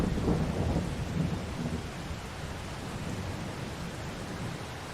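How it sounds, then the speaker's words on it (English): Heavy rain in the Farming Simulator 22 video game, a dense steady hiss with low rumbling underneath, slightly louder at first and then settling into an even downpour. "Still raining pretty hard that direction though."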